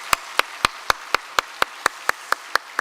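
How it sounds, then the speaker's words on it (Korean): A church congregation claps to welcome newly registered families during a Sunday worship service, heard as a dozen evenly spaced sharp claps in a steady rhythm, crisp and close with nothing else underneath. "우리 박수로 환영하겠습니다."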